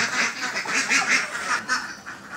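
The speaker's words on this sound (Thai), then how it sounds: "ไม่ว่าจะเป็นไก่เป็นเป็ดไข่หรือเป็ดบาวารี่เจ้าจิ๊บเป็นเป็ดบาวารี่อายุตอนนี้ก็ประมาณเกือบ" A Barbary duck quacks loudly and close in a run of repeated, rhythmic calls that continue through the moment.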